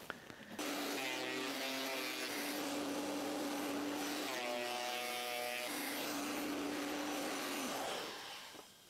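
A Vevor thickness planer runs with a vacuum dust extractor attached, giving a loud, steady mechanical roar. A strong whining tone rises over it in two separate stretches as boards feed through, and no one speaks.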